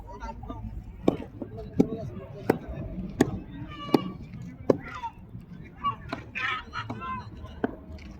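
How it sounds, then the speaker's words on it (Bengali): Poultry chickens are cut at a market in Saudi Arabia, sharp chopping strikes landing about every second or so amid a busy stall with people talking throughout. "পোলট্রি কাটিং হচ্ছে"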